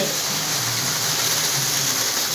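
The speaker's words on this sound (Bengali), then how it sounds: "হরদমে চলছে বৃষ্টি।" Steady, dense hiss of rain pouring down heavily in Shailkupa, constant and enveloping with no breaks or voices.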